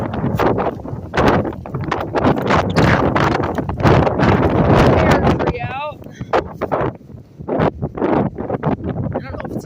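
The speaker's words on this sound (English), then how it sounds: "The wind is blowing really hard out here" Strong wind blows hard outdoors on a homestead, roaring and buffeting against the microphone in loud gusts while someone talks over it.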